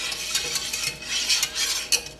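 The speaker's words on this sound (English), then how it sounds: "Whenever I need to cut my curds a lot smaller, I find it so much easier to use a whisk" A large whisk cutting cheese curds in a pot for primo sale, an Italian fresh cheese, giving quick wet swishes and light metallic clinks in an irregular rhythm, close and fairly loud.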